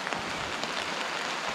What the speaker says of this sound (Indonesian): Tengah hujan